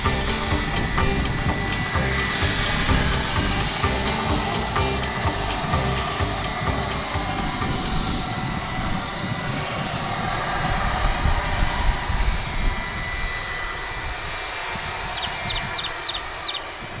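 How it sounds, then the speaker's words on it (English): An airplane taking off at DFW International Airport roars steadily and loudly throughout, a broad continuous rumble holding strong from start to finish with no voices. "typically they'll let this plane take off right in front of us"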